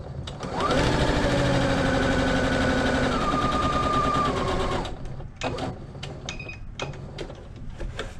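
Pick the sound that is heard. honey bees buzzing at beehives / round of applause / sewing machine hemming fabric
sewing machine hemming fabric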